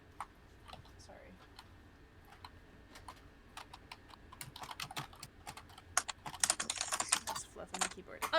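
Quick bursts of typing on a computer keyboard, soft clicks gathering into louder, denser keystrokes toward the end, close by with faint background sound.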